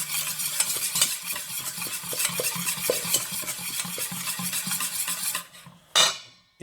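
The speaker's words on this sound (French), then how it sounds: "On va mélanger le tout." Rouille ingredients with garlic purée mixed in a bowl, continuous brisk scraping and whisking, close and busy, ending with a brief pause and one sharp final knock.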